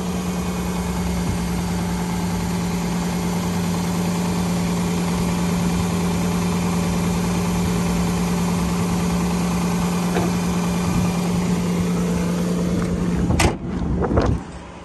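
A 2006 Kia Sorento's 3.5-litre V6 engine idles steadily with a low, even hum, close by, with a brief clunk or shift in sound near the end.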